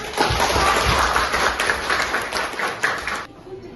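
A class of students in an Indonesian school claps together in a short, busy burst of applause that stops abruptly near the end.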